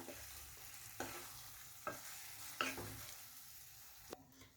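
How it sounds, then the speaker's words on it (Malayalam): Lemon pickle is stirred in a pan after the gas is switched off, a handful of distinct scraping strokes of a spoon against metal over a soft residual sizzle, close and fairly quiet with no talking. "ഗ്യാസ് ഓഫ് ചെയ്തിട്ട് ഒന്നുകൂടി നല്ലോണം മിക്സ് ചെയ്യുക"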